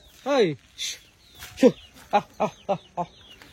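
An old hen in a village gives a series of short clucks, starting with a couple of drawn-out calls and ending in a quick run of clipped notes, close by.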